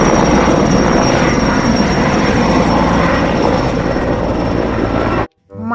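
A toy helicopter gives a loud, steady whirring rotor drone with a constant high whine, running without a break before cutting off abruptly near the end.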